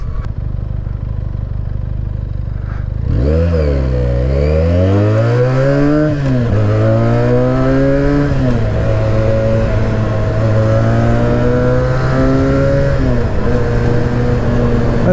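A 2020 Benelli 302 BN motorcycle engine revs up loudly and close during a test ride, climbing through the gears in rising sweeps with brief dips at each shift, then holding a steady drone.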